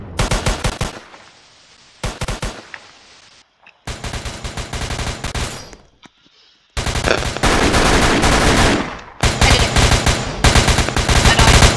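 Loud automatic gunfire in the Roblox game ERLC comes in several long rapid bursts separated by short silences, close and sharp, with the later bursts heavier and more sustained.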